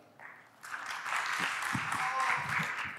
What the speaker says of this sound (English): So let's give a big round of applause for Mr. Juan Miguel